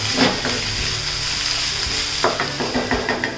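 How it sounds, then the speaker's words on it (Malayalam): Tomatoes fry and sizzle in a pan for a mushroom roast, with a steady hiss broken by scraping stirs near the end. "ഇനി നമുക്ക് ഈ തക്കാളി നല്ലതുപോലെ കുക്ക് ചെയ്തെടുക്കാം."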